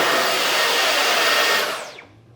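A Dyson V11 Absolute cordless vacuum cleaner runs with a loud, steady whine at close range. It then spins down and fades away, and nobody speaks.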